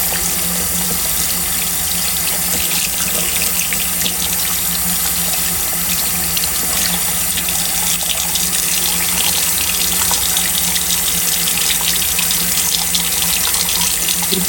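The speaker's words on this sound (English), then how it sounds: "let me try again and show you guys how I wash my brushes" Makeup brushes are rinsed under a running kitchen tap, which gives a loud, continuous close-up rush of water that stays steady and unbroken throughout, with no one speaking.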